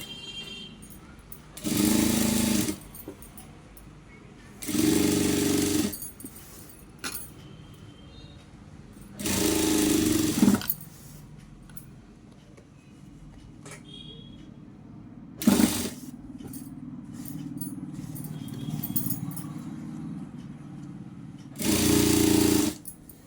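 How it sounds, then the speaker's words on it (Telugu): A sewing machine stitches round the armhole of a petticoat in several separate bursts of steady, close, loud whirring, with quiet pauses between them. "స్టిచ్చింగ్ చేసేసుకోవాలి."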